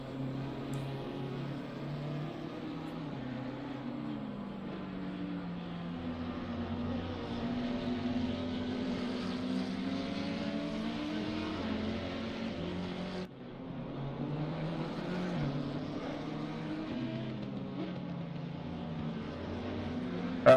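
Race cars run the Barcelona circuit in a racing video game, including a McLaren, and their engines make a continuous droning whine that rises and falls in pitch as they shift and brake, with a brief cut partway through.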